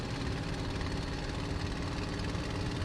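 A Messerschmitt Bf 109G-6 in Microsoft Flight Simulator, its piston engine at full throttle during the takeoff run, a steady dense roar with no letup and no talking.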